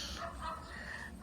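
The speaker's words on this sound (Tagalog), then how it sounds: "Look out, there's dogs." Dogs bark in a short burst outdoors, a few overlapping yelps and woofs at moderate distance, with no talking in between.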